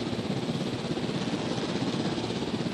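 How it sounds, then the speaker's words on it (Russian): A control helicopter in the game Jurassic World Evolution gives off a steady, even rotor and engine drone, continuous and moderately loud with no speech over it. "выпустить вертолет управления"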